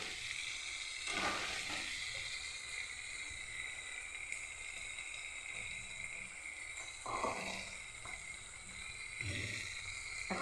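Spice paste frying with potatoes in a pan for a paneer dish gives a soft, steady sizzle and hiss, faint and continuous, with a few slightly louder crackling swells.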